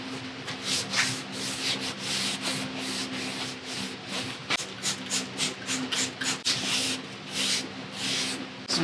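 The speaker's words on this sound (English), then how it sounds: "I'm going to just clean off all the oils or anti-corrosion inhibitor that's on here" Brake rotor on a Jeep TJ gets wiped down with Simple Green, making repeated close scrubbing and rubbing strokes in an uneven rhythm, with a few bursty spray-like swishes mixed in.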